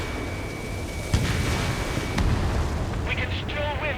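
In the Ace Combat 7 combat flight game, a destroyed target gives a deep, rumbling explosion under steady jet roar. A short radio voice and warning beeps play near the end.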